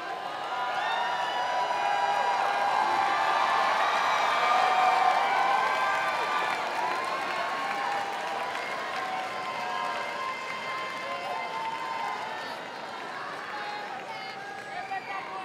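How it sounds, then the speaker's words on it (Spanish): A large arena crowd at a drag competition grand final at the Pepsi Center cheers and applauds a finalist on the runway, loud sustained roar and clapping with music and a host's voice over it. "Te recibimos con un fuerte aplauso."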